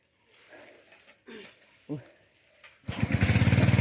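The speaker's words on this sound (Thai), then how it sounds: "ติดไม่ยากเลย รถ เครื่องสูบน้ำของเรานะคะ ติดง่ายๆ" A farm water pump's small engine is cranked a couple of times in a rice field, then catches at the end and runs with a loud, steady chugging.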